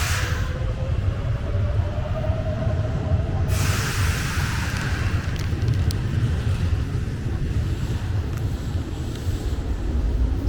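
A train passes at Kuzuha Station in Hirakata, Osaka, a loud, steady rumble and roar that fills the whole stretch, with wind buffeting and a brief rising whine near the start.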